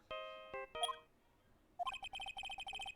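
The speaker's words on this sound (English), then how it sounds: "I know that song your phone plays when it rings." A mobile phone in the Phoenix Wright: Ace Attorney game plays its ringtone, a bright synthesized theme melody. Several sustained chime notes are followed by a rapid, repeating run of beeping tones, clear and alone.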